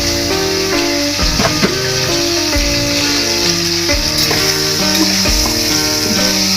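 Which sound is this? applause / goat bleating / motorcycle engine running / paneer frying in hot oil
paneer frying in hot oil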